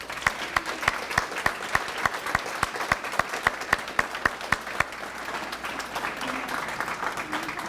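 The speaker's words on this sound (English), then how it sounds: "Let's give them a round of applause." Applause at a high school AFJROTC awards banquet, a crowd clapping steadily while one nearby pair of hands beats out sharp, regular claps for the first few seconds, then the applause continues evenly.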